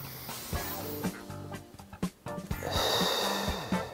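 A deep inhalation during a golf warm-up exercise, a slow audible breath drawn in through the nose with soft snort-like bursts, close and fairly quiet, with no talking.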